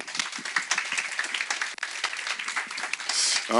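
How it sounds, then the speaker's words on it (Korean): An audience at a Korean youth worship service applauds an ensemble team, a dense burst of clapping that stays steady and loud to the end. "우리 앙상블 팀에게 감사의 박수 한번"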